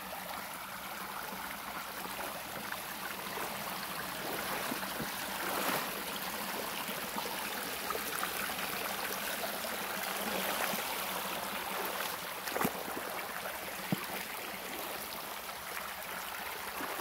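A rocky-bottom stream flows with a steady, soft rushing and trickling that stays even and fairly quiet throughout, with a few faint clicks.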